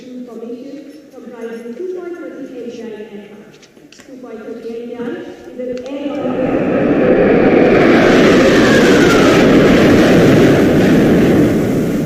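Six Indian Air Force Jaguar jets fly past in formation at a Republic Day parade at around 750 km/h, a loud swelling roar that builds and holds after a commentator speaks.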